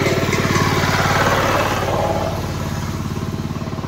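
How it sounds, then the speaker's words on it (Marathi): A small farm tractor on a village road chugs with a steady, rhythmic, close-up engine beat that softens slightly as it carries on. "छोटे छोटे ट्रॅक्टर पण येत आहेत, दाखवतात सोम बघा या रोडने."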